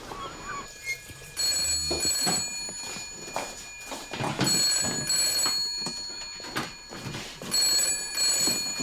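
A telephone rings in repeated bursts, a bright electronic trill recurring several times, loud and close, with some background rustling between rings.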